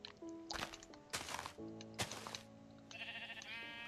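Sheep bleating in Minecraft on Xbox 360, a few clear close bleats separated by sharp block-hitting thuds, with no talking.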